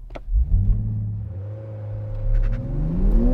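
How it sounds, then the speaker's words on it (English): A 2020 Toyota Supra launching from a standstill for a quarter-mile run on a track straight, its engine note climbing steadily in pitch through the gears, close and loud with a strong low rumble and no voices. "The final thing for me to do in this new Supra is to set a standing quarter mile launch time."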